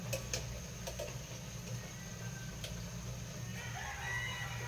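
A rooster crows amid a steady low hum and background farmyard noise, with faint ticking in the mix.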